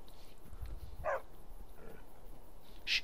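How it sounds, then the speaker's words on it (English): A dog growls and whines softly in the Skyrim video game, with short low rumbles and a couple of brief higher whimpers over a steady quiet background. "Why are you growling?"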